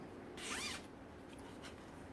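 Zipper pull on a handmade crossbody bag being worked, a quick rasping zip of about half a second, fairly close and clear, followed by a fainter short zip a moment later, with no talk.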